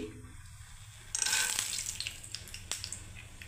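Peanuts drop into a hot pan for oats polao and burst into a sudden loud sizzle that settles into a softer crackling hiss, with a couple of sharp taps of a utensil, heard close.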